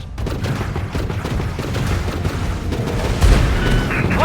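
Aerial battle gunfire from The Falconeer, a dense, continuous rattle of shots and booms running steadily throughout at a loud, close level, with a heavier thump near the end.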